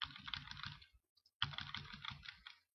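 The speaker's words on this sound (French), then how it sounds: "quand vous entendez les bruits, c'est mon clavier bien sûr, j'utilise les touches haut et bas" Computer keyboard keys, the up and down arrows, clatter in quick bursts of close, crisp clicks, stopping briefly before another run of rapid taps.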